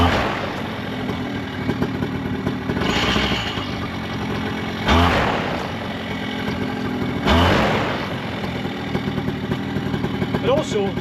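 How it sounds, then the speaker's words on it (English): A paramotor engine idling during a 25-hour service check, a steady mid-pitched running drone with a couple of brief revs, close by and fairly loud, with some clatter. "we're looking for a good idle"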